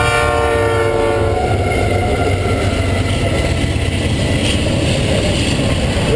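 A loud train rumbles steadily close by in Manitoba, a continuous heavy roar of rolling wheels with a tonal horn-like hum fading early on.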